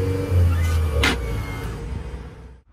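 Steady electric motor hum and mechanical whir as a Ricon split-platform wheelchair lift stows into a Ford Transit van, with a brief clunk midway before the sound fades out.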